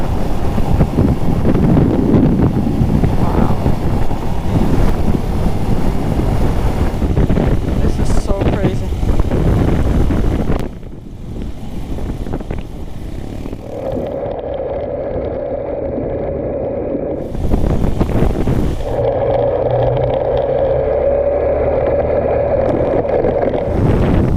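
Strong wind in a sandstorm buffets the microphone while riding a motorbike in La Guajira, a loud roaring rush with gusty swells, easing briefly before the engine's steady hum returns underneath.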